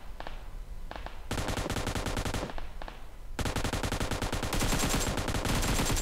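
Automatic gunfire in the battle royale game PUBG Mobile, rapid sustained bursts of shots broken by short pauses, loud and close, growing heavier toward the end.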